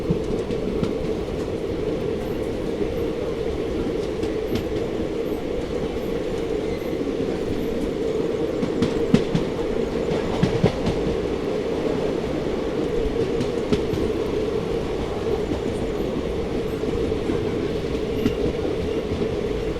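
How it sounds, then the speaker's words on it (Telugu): Kakinada Town to SMVT Bengaluru Seshadri Express with ICF coaches running on the rails near Bhimavaram, a steady close rolling roar with faint clickety-clack and occasional sharper wheel knocks, no talk. "బండి అయితే ఇప్పుడు భీమవరం అవుటర్లో కర్వ్ పడుతుందండి"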